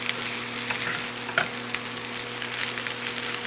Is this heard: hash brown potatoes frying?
yes